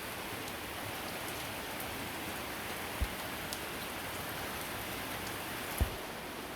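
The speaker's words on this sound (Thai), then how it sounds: "วันนี้เป็นวันที่ฝนตก เยอะเลยนะทุกท่านนะ" Heavy rain pouring outdoors on a rainy day, a constant, even hiss of falling water that stays fairly quiet, broken by two soft knocks.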